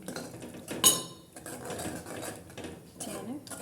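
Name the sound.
stirring okra curry in a pot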